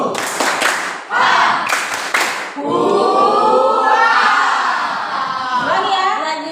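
Schoolchildren clap and chant together in a classroom spirit cheer, with sharp bursts of group clapping at first, then a sustained chorus of young voices shouting the chant.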